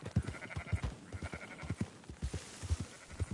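Sheep bleat repeatedly in Red Dead Redemption 2 while a stray flock is herded back. Short bleats come in an irregular, overlapping rhythm, some near and some farther off, over a low ambient bed with no talking.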